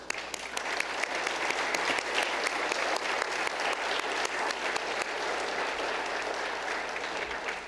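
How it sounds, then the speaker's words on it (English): An audience applauds students who stand to be recognised at a Florida energy forum; steady, dense clapping fills the room throughout without pause. "would you mind standing so we can kind of give you a round of applause for being involved?"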